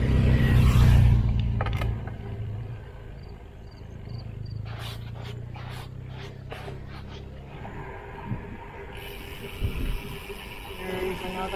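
A car rolls along a sandy gravel dirt road with railroad crossings, its engine rumbling low and steady from near to mid distance, with tire crunch and a few sharp clicks toward the end.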